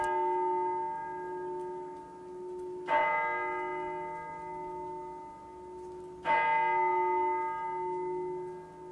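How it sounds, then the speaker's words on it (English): Church steeple bells in Saint John, New Brunswick toll twice at an even pace, each strike ringing out clearly and then fading into a long, humming decay. No one speaks. "St. Johners keep track of their day by both the steeple clock and the bells which toll the hours."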